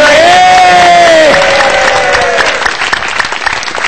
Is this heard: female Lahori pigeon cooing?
no